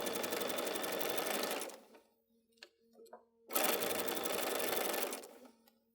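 A sewing machine stitches fabric pieces on fusible grid for patchwork, running in two steady bursts of close, continuous whirring separated by a short pause with light handling noises.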